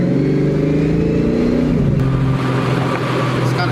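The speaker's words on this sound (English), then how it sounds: "She keeps stalling, so that's why I keep like revving it sometimes" A supercharged Fox Body Mustang engine revs and idles roughly, stalling and being kept alive with throttle blips; a loud, steady mid-range engine drone with pitch shifts throughout.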